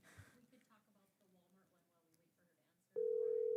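A telephone rings loudly as a steady electronic tone on a phone line during a Board of Equalization meeting, starting abruptly after quiet background talk and holding for its final half-second.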